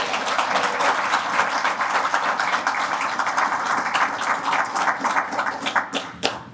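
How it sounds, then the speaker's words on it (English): Sustained round of audience applause after a community research talk, many hands clapping in a dense, even wash that thins toward the end. "let's give Jayme a nice round of applause"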